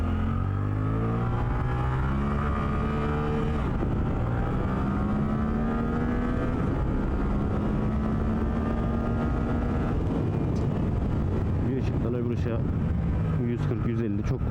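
A Suzuki GSX-8R motorcycle being ridden, heard from on board: a steady, loud engine drone rising and shifting in pitch through the gears, with wind rush throughout and a voice talking over it.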